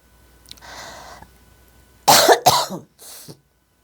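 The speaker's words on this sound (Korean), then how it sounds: "멀쩡하다 기침 나오게 방해하는 거예요" Several coughs and a throat clear from one person, first a soft raspy clearing, then two sharp loud coughs close together and a last smaller cough, alone with no speech.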